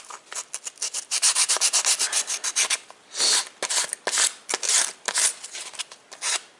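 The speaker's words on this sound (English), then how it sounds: "So just sanding off these little pieces up top and all around it." A small wooden door-trim rosette being hand-sanded, quick rhythmic rasping strokes in bursts with short pauses, close and crisp, no talk.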